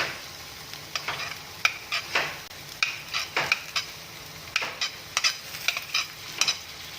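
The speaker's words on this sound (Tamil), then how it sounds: "Again we're gonna add some onion," Chopped onion fries in a pan with chopped garlic for a shakshuka, a soft steady sizzle broken by sharp scrapes and clicks of stirring.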